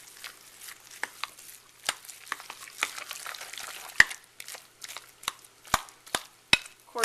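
Eggs being mixed into ground meat in a bowl for Salisbury steak, a faint, wet squelching broken by sharp clicks and knocks of a utensil, close and irregular, with no talking.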